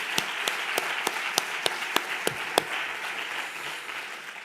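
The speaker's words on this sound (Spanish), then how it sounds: "Yo les daría otro aplauso, se lo merecen." Small audience clapping at the close of a day-long event in Santiago, a sparse scattering of claps with a few sharp, evenly spaced loud claps near the front, fading out after a few seconds.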